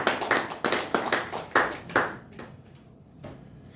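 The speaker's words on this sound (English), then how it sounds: "Let's give a good round of applause to all of" A small group at a Toastmasters meeting claps for the executive team, a few sharp, distinct claps in a loose beat that thin out and fade to near quiet after a few seconds.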